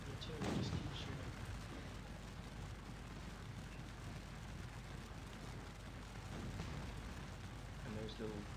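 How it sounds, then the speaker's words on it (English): Artillery in the Scourge of War strategy game fires in dull, faint, distant booms, one near the start and more later, under a low continuous rumble. "The artillery just keeps shooting."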